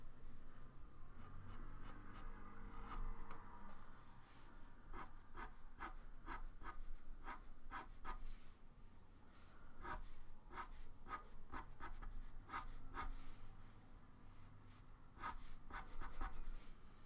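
Pastel chalk pencils scratch and stroke across paper in close, soft bursts of repeated short strokes with brief pauses, faint and intimate with no talking.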